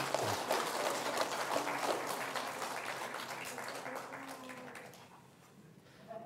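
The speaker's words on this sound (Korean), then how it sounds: "우리 다시 한번 우리 박수 한번 하겠습니다" A church congregation claps together during a Sunday worship service, a dense, steady wash of many hands that holds strong for several seconds before thinning out and fading near the end.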